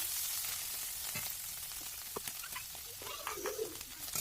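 Chicken pieces with lemon juice frying in a pan and being stirred, a soft steady sizzle with scattered scrapes and clicks from the spoon, fairly faint and close.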